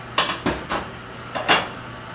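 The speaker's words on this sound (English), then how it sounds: "So it's clearly boiling. We've got the top just popping off over here." A pot lid rattles and clinks on a pot of boiling pork broth, with a few separate metallic taps in quick irregular bursts, close and clear.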